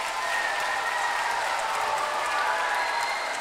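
Steady, dense applause from a concert audience in Bulgaria Hall, greeting an ensemble from the Lyubomir Pipkov National School of Music, Sofia, sustained and even throughout, with a faint voice underneath.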